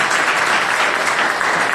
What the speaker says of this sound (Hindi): अच्छा ताली कैसे बजाओगे